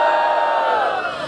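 A crowd at a rap battle in Barueri, São Paulo, cheers and shouts in a loud, dense roar that fades slightly over a second.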